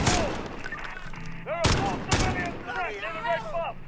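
Heavy gunfire in the video game Call of Duty: Modern Warfare, with dense rapid bursts and loud sharp shots over several seconds, mixed with shouting game voices and effects.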